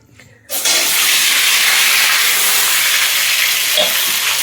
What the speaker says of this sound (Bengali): আর এদিকে তেল গরম হয়ে যাচ্ছে, কড়াইতে সয়া সস দিয়ে দেবো। প্রথম ভেজে নেবো এটা সুন্দর করে।